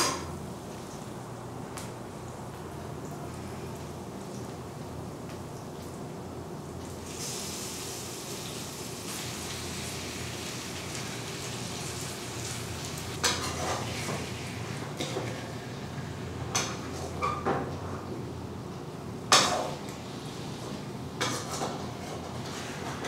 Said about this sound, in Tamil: இப்போ இதில் சிக்கனை போட்டு நல்லா கிளறிட்டோம்.